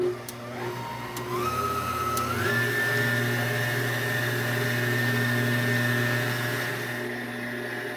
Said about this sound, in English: we're going to put our whisk back on. And We're going to beat this up as well.